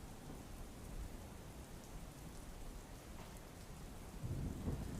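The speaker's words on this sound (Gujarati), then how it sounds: "લીલિયા શહેરમાં ધોધમાર વરસાદ વરસ્યો છે।" Heavy downpour in Lilia town, Amreli district, Gujarat, a dense, steady hiss of rain pouring on surfaces, with a low rumble swelling near the end.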